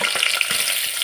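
Dried chillies fry in hot oil in a home kitchen for a chicken curry, a brief, steady crackling sizzle with a few soft pops, close and fairly loud, with no talking.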